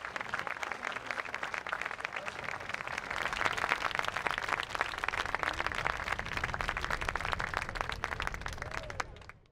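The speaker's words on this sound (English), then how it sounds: "Let's give them a round of applause." Steady, dense applause from an audience at a National Day of Peace event honoring the Bermuda Police Service, sustained at an even level for about nine seconds before cutting off.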